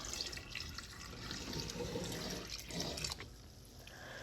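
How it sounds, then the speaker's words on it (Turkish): Milk pours steadily into a pot of rice for Turkish rice pudding, a continuous close liquid splash and trickle lasting a few seconds without speech. "Şimdi sütünü ilave ediyorum"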